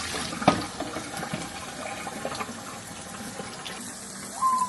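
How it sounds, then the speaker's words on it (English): Hot tap water runs steadily over a Shark Lift-Away vacuum filter part as it is rinsed in a sink, a close, continuous splashing flow with a few brief knocks. "It's hot water. As hot as clean, isn't it? And I'm just rinsing this."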